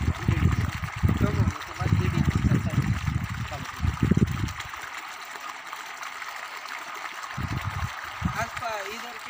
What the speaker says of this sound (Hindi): पानी कंटिन्यू चलता है पानी अच्छा है